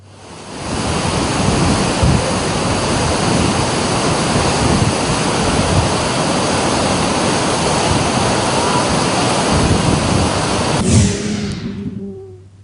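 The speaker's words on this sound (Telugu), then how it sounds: "గేట్లను ఎత్తివేసి నీటిని దిగువకు వదులుతూ ఉన్నారు" Flood water roaring out through raised dam gates during heavy rain, a loud, dense, continuous rush that holds steady for several seconds and then cuts off abruptly near the end.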